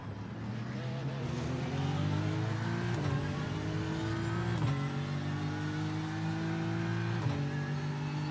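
A Porsche GT3 race car engine at Monza in the iRacing simulator, droning steadily at high revs with several sharp gear shifts that drop the pitch before it climbs again, continuous and close.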